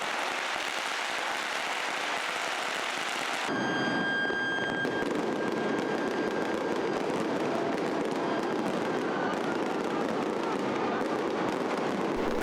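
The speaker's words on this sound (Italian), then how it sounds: "Per le strade il rumore dei tamburi, dei botti, dei fuochi d'artificio allontana gli spiriti maligni." Dense crackling and popping of firecrackers and fireworks fill the street during a Chinese New Year festival in the Philippines, a continuous loud barrage that swells after a few seconds and carries on steadily.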